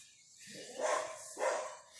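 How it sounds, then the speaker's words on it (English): A neighbor's dog barks by a fence, two separate barks about half a second apart, fairly faint over a quiet outdoor background. "Having a neighbor's dog who loves being right by your fence and trying to pick a fight with your dogs doesn't really help."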